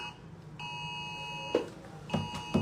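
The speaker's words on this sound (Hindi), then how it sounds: "अलर्ट मैसेज आते हैं।" Mobile phones sound emergency alert message tones: a steady electronic tone switches on, then gives way to a run of rhythmic beeping pulses, fairly loud and close.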